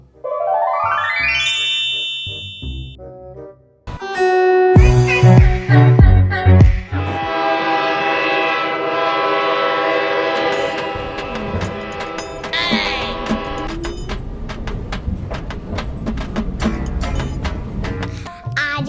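A metro train runs, with a loud rising electronic tone and horn-like blasts, then a sustained roar of wheels and motors with clanks and rattles as it moves along, close and continuous.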